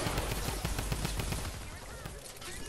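A Typewriter assault rifle in Fortnite Save the World fires a fast, steady stream of shots, loud at first and easing slightly toward the end, with someone talking faintly underneath.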